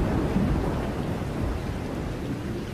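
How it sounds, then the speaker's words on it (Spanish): Heavy rain pours steadily with a deep thunderstorm rumble underneath, a dense, continuous roar of downpour filling the whole stretch with no voices. "Suena como si lloviera mares, ¿verdad? Sí, hacía tiempo que no llovía tanto."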